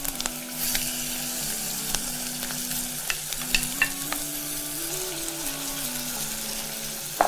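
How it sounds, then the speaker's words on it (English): Beef browning in a hot frying pan, a steady close sizzle with occasional sharp pops and spatula scrapes, plus a low background hum running throughout, no talking. "So you can see I'm browning my beef on both sides."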